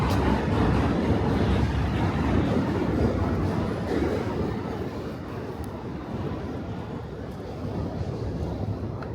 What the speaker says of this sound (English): You can see a train coming over.